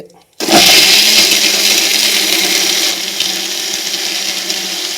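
A mixer grinder starts suddenly and roars loudly as it grinds ingredients in a mixie jar, running continuously with a slight drop in pitch partway through.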